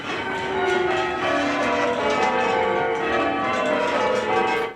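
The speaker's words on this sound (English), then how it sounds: "make the bells ring out across the village" Church tower bells ring at Bulkington, overlapping tones sounding loud and sustained with steady strikes and a rich, ringing decay, no voices.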